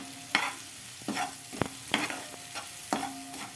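Tomatoes and spices for pea chutney cook in a pan, with a soft sizzle under repeated stirring strokes and occasional utensil knocks against the pan, nearby and fairly quiet, no talking.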